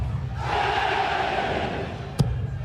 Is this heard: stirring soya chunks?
no